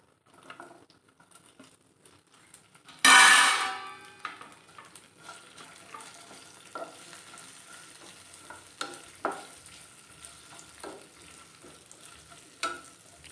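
Onion, ginger and garlic hit hot oil in a pan with a loud burst of sizzling, which settles into a quieter steady fry with occasional stirring scrapes and pops.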